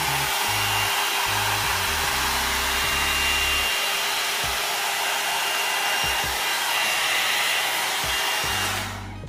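An AIMA one-step blow dry brush runs on high heat with a loud, steady airy whoosh and whine, with intermittent low thumps and bumps as it moves through curly hair, then winds down at the end.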